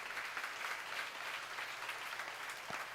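Dense applause from a large church seminar congregation fills the space continuously, distant and hall-like, with a brief low thump near the end.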